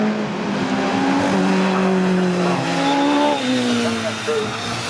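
Classic Clubmans race cars at Cadwell Park, engines droning and rising in pitch as they pass during a race, loud and sustained, with a commentator speaking over the engine noise.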